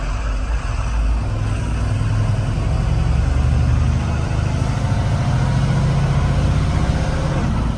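A fully loaded truck's heavy diesel engine pulls hard and steadily, droning loud and close with a deep low rumble that rises and settles as it climbs through the gears, with no talk.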